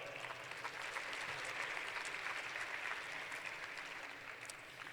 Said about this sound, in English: Can we have a big round of applause for them?